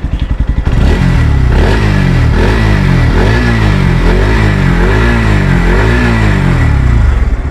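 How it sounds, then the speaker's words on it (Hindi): A 2023 Bajaj Pulsar NS-160 motorcycle revs loudly up close, its exhaust note rising and falling in repeated throttle blips over a steady idle, with no talking. "चलिए इस बाइक हम पहले एग्जॉस्ट नोट को सुन लेते हैं।"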